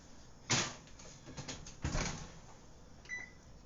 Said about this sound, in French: Donc là, je vais mettre ça au four.